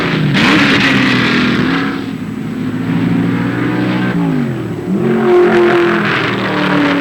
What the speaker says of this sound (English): This is Daytona at speed, at 190 miles per hour in Jerry Thompson's C